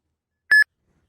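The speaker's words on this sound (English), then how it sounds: "Your phone will start beeping, and the screen will flash." An Uber driver app on a phone sounds a trip-request alert: one short, clear electronic tone of steady pitch, close and alone in silence.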